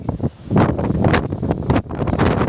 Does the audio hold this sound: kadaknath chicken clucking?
no